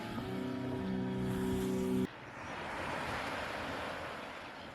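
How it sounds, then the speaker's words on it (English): Ocean waves break on a beach in a steady roaring wash of surf with wind, loud and close, after a brief tonal hum cuts off. "Every time one of the waves smooshed itself onto the beach"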